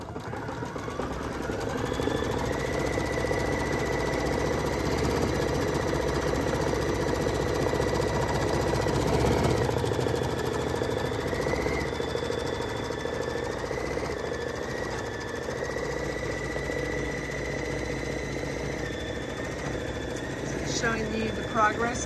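A new embroidery machine stitches steadily, its continuous motor hum and rapid needle rhythm running throughout at close range, with a faint tonal whine layered on top.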